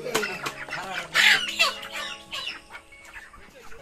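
Broiler chickens about a month old on a poultry farm cluck and squawk close by in a busy, overlapping flock chorus, with one louder burst in the middle.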